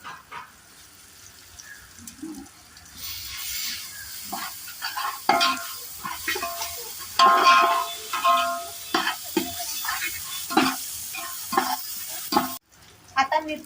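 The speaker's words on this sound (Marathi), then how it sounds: "आता त्याच्यामध्ये आलं लसूण मिरचीची पेस्ट टाकणार" Ginger, garlic and chilli paste is stirred and sautéed with tomatoes in a pan, giving a continuous sizzle and frying hiss broken by repeated scraping strokes of a spatula, close and moderately loud, with no one talking.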